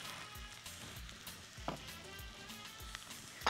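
Chopped onions and peeled fava beans sizzling in a hot pan, a steady close crackle of frying with occasional sharp pops and stirring clatter.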